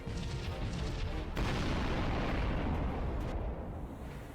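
A spaceship explodes in the Sunrider space battle game: a deep, rumbling blast swells up abruptly and sustains as a broad roar before slowly tapering off.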